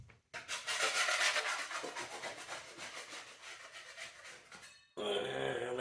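A scraper drags across an old Italian wall in Sicily, stripping off flaking paint in one long rasping stroke that is loud and close, gradually fading, then followed by a brief burst of other noise.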